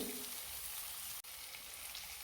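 Two chopped onions sauté in a pan for Surat-style paneer ghotalo, giving a steady, close sizzle that drops out for an instant partway through before carrying on evenly.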